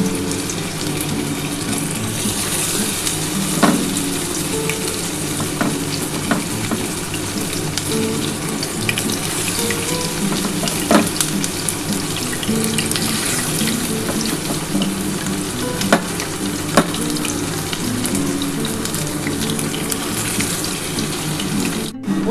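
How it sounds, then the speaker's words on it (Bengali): Loitta fish pakora balls deep-frying in hot oil over a low gas flame, giving a steady, dense bubbling hiss with scattered sharper crackles throughout, close and continuous with no talk. "দেখো আমি কিন্তু পকোড়াগুলো ভেজে নিচ্ছি"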